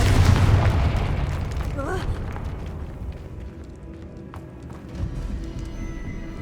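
A Confringo explosive spell going off in the Hogwarts Legacy video game: a loud boom at the start that fades into a long rumbling tail, with a smaller thump later.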